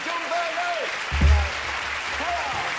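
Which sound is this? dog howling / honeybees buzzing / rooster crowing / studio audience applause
studio audience applause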